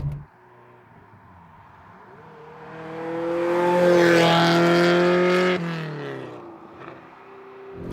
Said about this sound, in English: The exhaust is making quite the racket, but it's not standard.